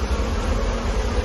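A dense, steady buzz of many honeybees fills the space during a full hive removal. The droning is loud and continuous with no voices over it.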